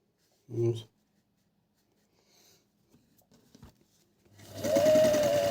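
An overlock serger machine with an enlarged knife stroke runs steadily near the end, a loud continuous whirring hum after a brief earlier voice and a few faint clicks.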